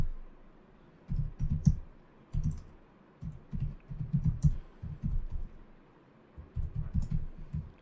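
Bursts of clicky typing on a computer keyboard come in short irregular runs separated by pauses, close and moderately quiet.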